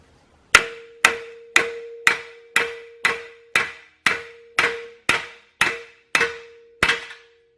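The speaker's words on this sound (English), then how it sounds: "you can just hit on the knuckle, the steering arm there, and it pops the whole arm off" A hammer strikes a steering arm knuckle on a Toyota solid axle eleven times in a steady rhythm, each blow a loud, close metallic clang with a short ringing tail.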